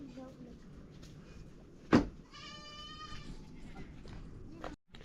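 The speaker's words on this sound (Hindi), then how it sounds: "हमारी बकरी आ गई है भाई जंगल से घास खा के।" Goats returning from grazing in the forest to a small home-town house bleat in a couple of short calls amid a sharp knock and household background noise.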